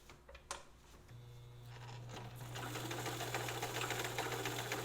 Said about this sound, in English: you can see the other zigzag, the way it looks when you're doing it long